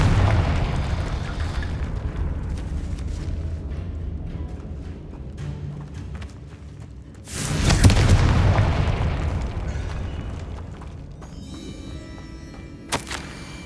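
A Confringo fire-blast spell goes off in Hogwarts Legacy on Xbox Series S: one loud, booming explosive burst rises out of steady game rumble midway through, then fades into a lingering low roar.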